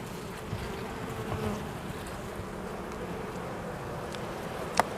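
A soft, continuous buzzing hum of many honey bees in a hive, fairly quiet and steady, with a single sharp click near the end.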